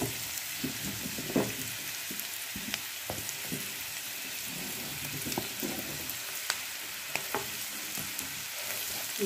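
Cut sweet potato pieces frying with masala in a pan, a continuous close sizzle broken by frequent scraping and stirring clicks from a spatula.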